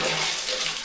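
Water poured by hand from a container into a squat toilet's floor-level hole in Tibet gives a short, steady rush of splashing that fills the whole second, close and fairly loud with no voices.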